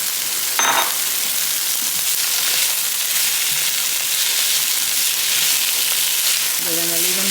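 Peas and carrots frying in a pan with turkey sausage and meat for fried rice, a continuous bright sizzle with a brief clink near the start and a short metallic scrape at the end.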